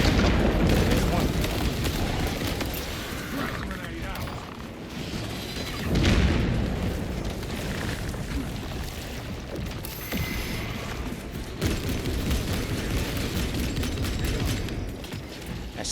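Grenade explosions in the Space Marine 2 video game, heavy booming blasts amid dense continuous battle noise, one strong burst standing out partway through.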